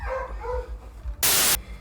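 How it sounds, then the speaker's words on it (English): A dog barks twice in quick yelps, followed by a brief loud burst of static-like noise, close and fairly loud. "dog is just gonna lose her mind and break sound barriers"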